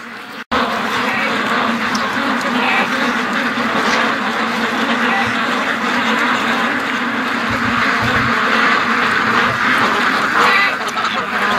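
A flock of ducks, with some older Muscovies among them, quacks loudly and continuously close by in a yard, a dense overlapping chorus of calls with no pauses.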